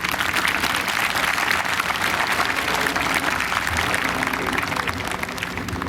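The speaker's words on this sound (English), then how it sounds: "Let's give all the teachers here today, before I continue, a round of applause for their amazing work" An audience at an 8th grade promotion ceremony applauds its teachers, a dense, steady roar of many hands clapping that holds loud and even for several seconds.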